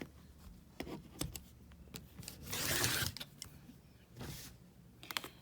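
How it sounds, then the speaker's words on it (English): Scissors cutting through a fabric seam allowance on a quilt sampler block, a few sharp crisp snips spread across a quiet stretch with a longer rustling slide of cloth midway. "I'm cutting, because I'm essentially going to cut that seam allowance off"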